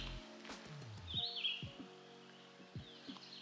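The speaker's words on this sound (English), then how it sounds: "You can hear the birds." Birds call faintly along a wooded path to Blue Beach, Nova Scotia, a few scattered chirps and short tweets over quiet outdoor background with light rustling.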